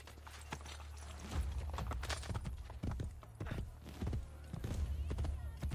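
Horse hooves clip-clopping in Assassin's Creed Brotherhood on Xbox 360, a quick irregular run of near hoofbeats over quiet game ambience.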